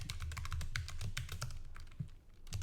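Rapid, close clicking of keys as a password is typed on a computer keyboard, a steady run of individual keystrokes with a brief pause near the end.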